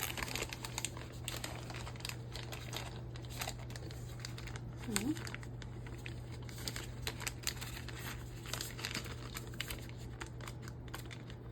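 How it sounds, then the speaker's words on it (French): Plastic packaging crinkles and rustles in short bursts as a diamond painting toolkit is opened, with close handling noises throughout. "On a ici un toolkit. Donc, on va ouvrir, voir qu'est-ce qu'il contient."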